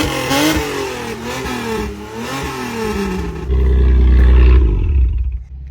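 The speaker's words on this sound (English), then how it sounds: "Now I have a 1999 Toyota Camry that needs some help starting." A 1999 Toyota Camry being started: several seconds of wavering cranking and whirring, then the engine catches into a loud, deep, rumbling roar that holds before dropping away at the end.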